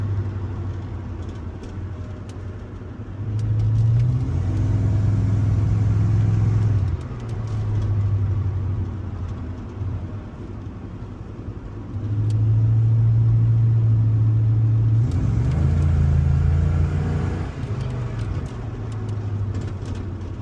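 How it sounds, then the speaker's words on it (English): A Holden HSV VN Commodore SV LE with its 5-litre V8 rumbles while driving, the low engine note swelling and easing in repeated surges as it accelerates and shifts, heard from inside the cabin with no talk. "The old 5 litre is a fun car to drive"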